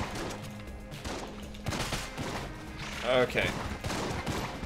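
Rapid bursts of gunfire and bullet sounds from the Enter the Gungeon video game, loud and dense with a crashing burst near the end, under a man's brief spoken remark.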